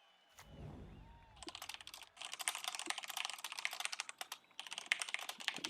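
Rapid clicking of a computer keyboard during an online Magic: The Gathering Modern match, starting after a brief low rumble and running in dense bursts with short pauses, close and fairly loud.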